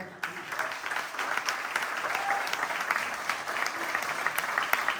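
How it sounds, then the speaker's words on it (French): Steady applause from a crowd at a judo and jujitsu school's end-of-year show, dense clapping that holds at an even level from start to finish. "merci de les applaudir encore une fois"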